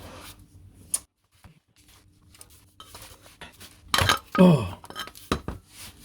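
A wrench fitted with a tube extension clinks and scrapes against the engine of a third-generation Kia Rio 1.25 liter, with sparse metallic taps and a louder burst of clattering near the end, close up, and a brief spoken exclamation.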